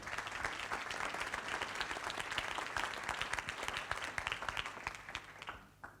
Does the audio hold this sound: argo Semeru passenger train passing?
no